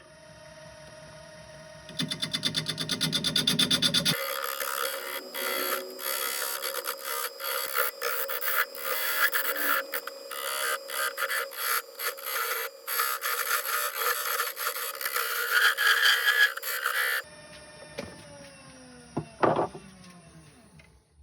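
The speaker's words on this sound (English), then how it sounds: "I'm just going to use a small point tool just to cut out a small channel" A small point tool cuts a narrow channel in wood spinning on a lathe, a loud steady scraping hiss over the motor's hum with rough bursts of chatter, ending as the cut stops and the lathe winds down.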